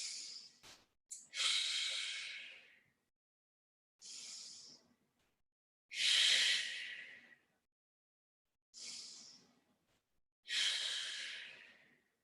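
Slow, deep breaths in a guided relaxation exercise: five long, audible exhalations come close and alone at steady intervals, each a soft airy sigh with quiet gaps between.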